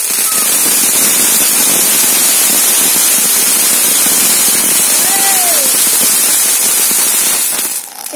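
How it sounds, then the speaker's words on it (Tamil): A large firecracker going off outdoors, heard as a loud, dense crackling roar that fills the whole clip, with a faint whistle partway through before it tapers at the end. "இது பெரிய வெடியா இருந்துச்சு."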